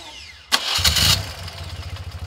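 A 1981 BMW R65 motorcycle engine with 36,000 miles cranks and catches with a sudden burst, then quickly settles into a low, steady rumbling idle.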